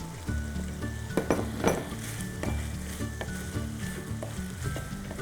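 Baby corn sizzles in a hot pan of ginger sauce over high flame, a dense frying hiss with a few sharp clinks and scrapes of stirring near the start, close and steady with no speech.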